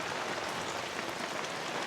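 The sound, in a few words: heavy Florida thundershower rain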